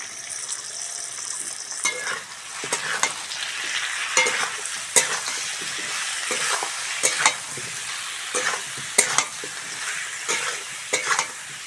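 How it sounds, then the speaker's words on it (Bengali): A spice paste of chili powder, turmeric, salt, ground cumin and tomato sizzles in a pan while a spatula scrapes and stirs, giving repeated sharp clicks and knocks over a steady hiss. "ভালো করে মশলাটা কষে নেব।"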